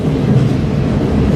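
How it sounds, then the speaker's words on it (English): A freight train rolls through Sandpoint close by, giving a loud, continuous low rumble of wheels and cars with no break and no talking. "The freaking train never stopped"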